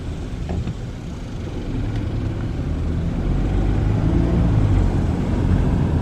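Car driving through the small rural Oklahoma town of Blair, a steady low engine and road rumble from inside the cabin that grows slightly louder as it goes, no talk.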